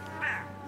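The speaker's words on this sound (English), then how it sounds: "Meow. Meow. Meow." A single short cat meow, fairly soft and close, over a quiet background.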